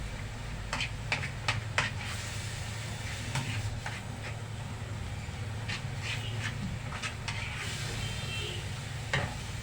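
Onion sautéing in ghee, a soft steady sizzle under a low hum, punctuated by a series of light spoon taps and scrapes on the pan, close and quiet, no talk.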